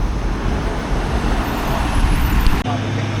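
A heavy truck grinds past on a steep, sharply tilted mountain road at Alas Gumitir, a loud, close, continuous roar of engine and road noise that cuts off abruptly near the end.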